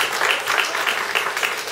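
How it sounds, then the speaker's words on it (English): An audience at a debate breaks into a round of applause, a dense steady wash of many hands clapping together, fairly loud and continuous throughout with no talk over it. "I just want you all to give a big round of applause for Sue Weisfeld"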